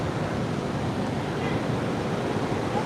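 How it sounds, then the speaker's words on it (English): Ocean waves breaking on a shore with a strong current and big surf, heard as a steady, dense wash of roaring noise with wind, constant and fairly faint throughout. "Wow, look at these waves here."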